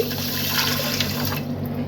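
Water runs steadily into a cooking pot with a continuous splashing pour, close by, ending in a slight trickle.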